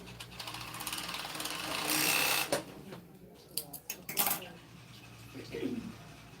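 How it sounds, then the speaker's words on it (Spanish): Sewing machine stitching fabric for a crop top, bursts of rapid mechanical clatter starting and stopping close by, interrupted by small handling sounds. "Y cosemos."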